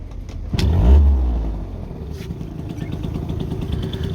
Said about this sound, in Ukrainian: як заводиться з кікстартера